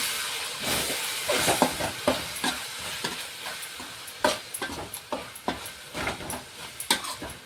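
Masala egg rice with soy sauce is stirred in a sizzling pan, giving a run of close scraping strokes at an uneven rhythm over a steady frying hiss.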